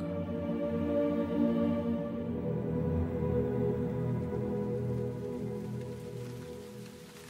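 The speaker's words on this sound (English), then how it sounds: "The morning rain clattered on the forest canopy and streamed between the leaves onto a muddy ground." Steady rain patters on a forest canopy, a dense, continuous hiss of drops with a low rumble underneath, easing slightly toward the end, with no voices.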